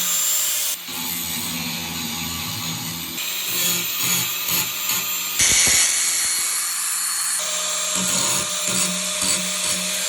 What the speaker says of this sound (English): so me and Dane just grinded off all the powder coating off the railing as well as hook